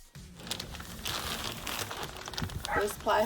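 Heavy 12 by 25 foot, 8 mil greenhouse plastic sheeting crinkles and rustles continuously at close range, with brief louder crackles near the end as the sheet is handled.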